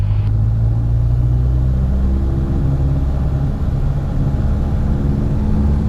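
A Piper PA28 light aircraft engine holds a loud, steady drone at 2000 RPM during a ground run-up, a close continuous rumble with a slight rise in pitch early on.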